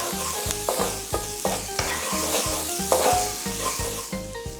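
Ginger sautés in a hot pan with a steady sizzle, while a utensil scrapes and stirs in a regular rhythm of about a dozen strokes, close and clear with no talk.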